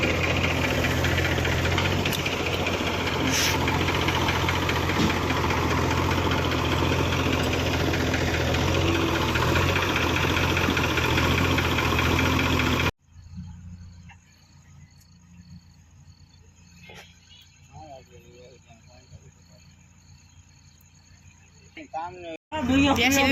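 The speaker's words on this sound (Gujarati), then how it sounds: "2 ટ્રેક્ટર ચાલે અટાડે." A farm tractor engine, one of a Massey 8775 and a New Holland 3630, idles with a steady knocking diesel rumble in a field, loud for about thirteen seconds before cutting to quiet ambience with faint voices.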